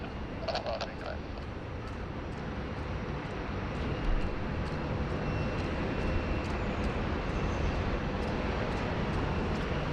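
An airliner bound for Manila climbs out after takeoff from Sydney Airport, a broad, steady jet roar heard from a distance that holds and swells slightly over about ten seconds.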